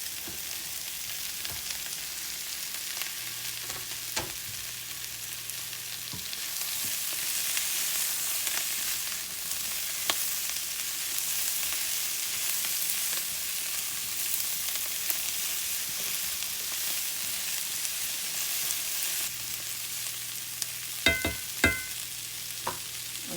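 Cut potatoes fry in a pan with cabbage and fried onions, giving a steady broad sizzle through the whole stretch. A few light clicks and scrapes of stirring come near the end, and nobody speaks.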